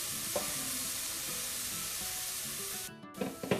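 Onions fry softly in a pan for a palak aloo dish, a continuous moderate sizzle with light stirring rubs, briefly cutting out near the end before resuming.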